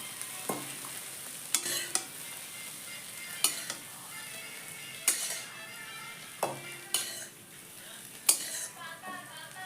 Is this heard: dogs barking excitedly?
no